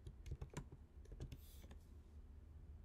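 Quiet typing on a computer keyboard while entering a web address into a browser: a brisk, irregular run of light key clicks, close and faint, with no talking.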